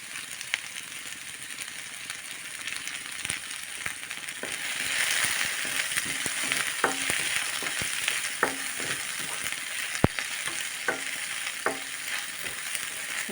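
Onion and dried red chilli fry in a pan for a chutney, a steady oily sizzle broken by sharp clinks and scrapes of a spoon stirring against the pan, with no talk.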